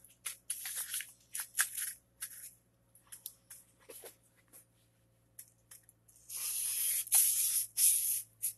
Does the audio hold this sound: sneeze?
no